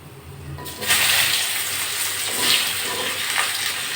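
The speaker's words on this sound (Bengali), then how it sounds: "এবার পেঁয়াজ আলু আর পটল কুচি একসঙ্গে ছেড়ে দিচ্ছি" Chopped onion, potato and pointed gourd dropped together into hot white cooking oil tempered with nigella seeds, breaking into a steady loud hiss and crackle that swells in a few waves.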